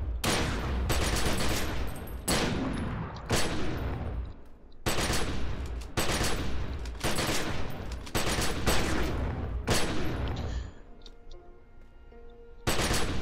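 Rapid bursts of Anima Shot ranged-weapon fire in the video game The Secret World, about nine loud clustered volleys separated by short gaps, with no voices.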